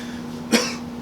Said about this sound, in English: Why are you coughing up blood then?